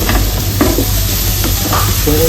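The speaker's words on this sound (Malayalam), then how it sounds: "2 മിനിറ്റ് നമുക്കൊന്ന് ഇളക്കി കൊടുക്കാം." Prawn masala of onion, coriander, chilli, turmeric, garam masala and pepper powders stirred in a hot pan, loud close sizzling with repeated spoon scrapes in an uneven rhythm, no talk.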